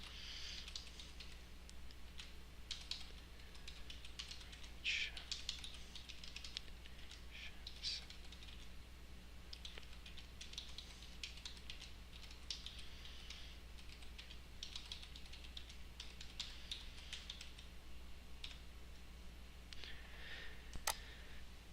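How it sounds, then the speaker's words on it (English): Soft, steady clatter of typing on a computer keyboard, with irregular keystrokes tapping continuously at low volume and a faint background hum. "So I'm going to type out a brief item description"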